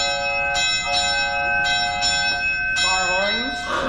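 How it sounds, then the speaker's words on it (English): Train bell effect on an air-powered theatre organ, a bell mounted on the wall striking in a steady series of bright, ringing clangs, with sustained organ tones under it and a rising whistle-like sweep near the end. "How about a train? The bell's hanging right on the wall."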